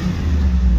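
A Pontiac TransAm engine held at about 3000 rpm gives a loud, close, steady low rumble in one short burst, with no voices.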